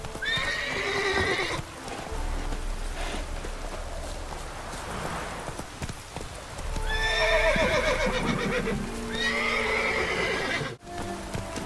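Horse neighing and whinnying in The Witcher 3, with several loud, close whinnies spread across the stretch and clip-clopping hooves underneath.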